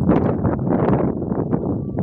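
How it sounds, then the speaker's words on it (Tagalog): Strong wind buffets the microphone in a steady, loud, rumbling roar, with gusty surges and no clear speech. "Grabe ng hangin guys"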